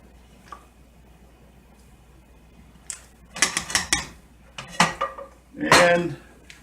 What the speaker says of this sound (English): occasionally we'll give this a little mix so that they don't stick to the bottom